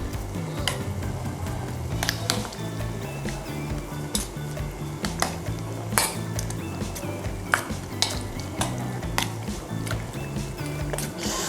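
Spatula stirring seasoned food for sate garo in a pan, repeated scraping and clinking taps at an irregular rhythm over a low steady sizzle, close and moderately loud.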